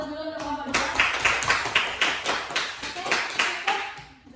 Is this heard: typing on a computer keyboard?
no